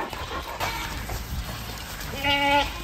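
Goats on a farm bleat while being coaxed along with a bucket of feed: a short, nasal bleat stands out near the end over steady outdoor background noise.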